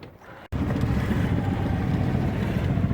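A sailboat's motor running in calm, windless weather, a steady low engine drone that kicks in abruptly after a brief quiet moment and continues evenly, close and fairly loud, with faint wind noise.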